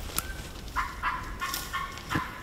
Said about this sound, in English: He just gobbled.